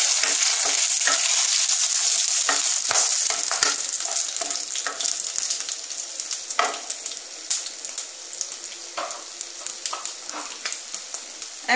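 Oil sizzles hard in a pan as spices and chilli fry, a bright continuous hiss broken by repeated sharp scrapes and clicks of a spoon stirring, close and busy throughout, with no voices.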